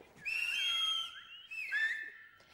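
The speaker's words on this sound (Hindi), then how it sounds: "सीटियां मत बजाइए।" Shrill whistles from a studio audience at a Pakistani talk show, a long rising whistle followed by a shorter second one, close and alone.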